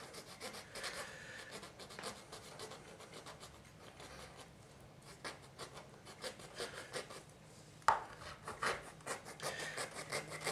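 A coarse hand blade saws through a block of carving wax for investment casting in quiet, rapid rasping strokes, faint and close, with a brief sharp knock partway through and no talk.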